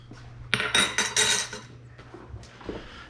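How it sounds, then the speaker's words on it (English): A metal fork clinks and scrapes against a pan on a medium-high heat, a few quick rattling strokes close by followed by softer scattered taps, with no talking. "I'm just gonna get a fork to stir with."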